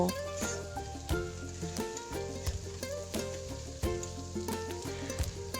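Washed shidol dried fish mixed into frying onions with chopped garlic for a spicy chutney, giving a soft steady sizzle under regular scraping and clinking strokes of a spatula, close and moderately quiet.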